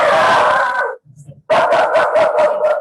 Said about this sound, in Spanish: Pues sí, discúlpame, por favor, que esa perrita.